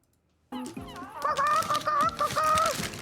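A bird call, squawking and clucking like a fowl, edited into a clip and bursting in abruptly after a moment of silence, loud and close.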